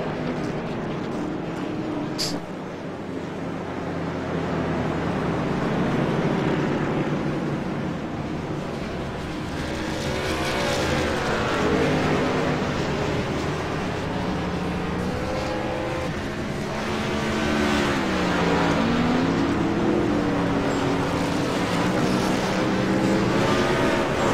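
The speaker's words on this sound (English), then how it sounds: "Cars coming down pit lane." Race cars rolling down pit lane at Daytona during a special event, a continuous loud engine roar with shifting pitches as several cars pass, steady throughout with a brief sharp click early on.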